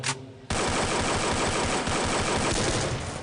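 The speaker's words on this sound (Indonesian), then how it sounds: "Oh, tembakan lagi yang sangat luar biasa." Sustained automatic gunfire from the Free Fire battle royale game during a live esports final, a dense, loud rattling burst kicking in abruptly after a brief quiet start and continuing unbroken.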